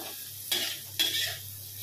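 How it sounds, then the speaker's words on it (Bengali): Jackfruit seeds fry with a steady sizzle in a pan as a utensil stirs them in two distinct scraping bursts, about half a second apart, with no one talking. "এদিকে হচ্ছে এই যে কাঁঠালের দানা ভাজা"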